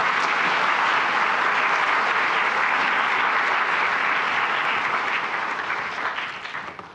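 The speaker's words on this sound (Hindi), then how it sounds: "उनके लिए तो थोड़ा तालियां बजाएं।" Sustained, dense applause from a large audience at a national children's award ceremony presided over by the President of India, loud and steady before tapering off near the end.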